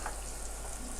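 Chopped onion and curry leaves fry in hot oil with a steady, close sizzle that fills the short moment, with no voices.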